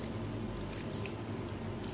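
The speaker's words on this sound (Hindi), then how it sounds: "आधा कप मैंने पानी शामिल किया है" Half a cup of water is poured into chicken yogurt pulao in a cooking pot, making a faint, steady splashing trickle that runs without a break and carries no talk.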